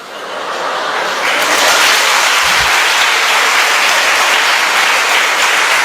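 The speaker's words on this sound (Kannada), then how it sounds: "ಚಪ್ಪಾಳೆ ಹೊಡಿತಲೇ ಹೊಡಿತಲೇ" An audience claps loudly and continuously in a dense, close wash of applause that swells in the first second and holds steady without any talk.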